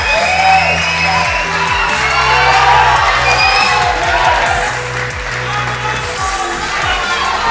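A crowd at a CrossFit Open 20.5 event at CrossFit Punt Uit cheers and whoops loudly for an athlete doing her last muscle-ups, a continuous roar with shouts over an announcer's voice.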